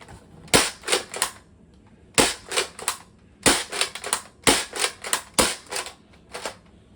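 An Adventure Force Nexus Pro X toy blaster fires in close, sharp, clicky bursts of three to four rapid shots, each burst separated by brief pauses, repeated several times.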